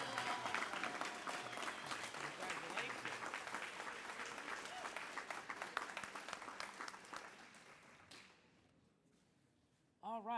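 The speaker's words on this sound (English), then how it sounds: "Let's get a round of applause for the Cobo Center." Steady applause from an audience at a community awards breakfast, lively clapping and cheering that dies away near the end before a voice starts speaking.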